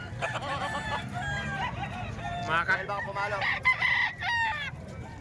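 A Talisayin rooster at a farm sale in Calumpit crows loudly and close, its call rising over steady background noise while someone talks alongside it.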